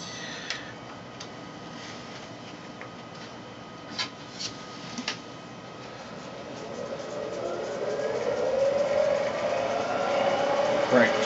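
Wood lathe turning while coring a bowl, a continuous mechanical hum and whir with scattered ticks and knocks from the tool, growing louder and higher toward the end as the cutting sharpens.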